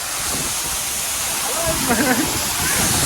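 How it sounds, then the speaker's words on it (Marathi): A large monsoon waterfall at Malshej Ghat pours down in a steady, loud broadband roar throughout, with someone talking briefly over it near the middle. "बघा धबधबा किती मोठा आहे खूप मोठा धबधबा आहे बेकार पाणी पडतोय"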